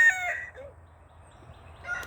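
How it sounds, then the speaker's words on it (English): Chickens from a mobile chicken tractor give a short crowing call followed by a brief cluck and then a quieter stretch, ending with another rising call, fairly close with no talking. "Here's the mobile chicken tractor with the rest of the birds."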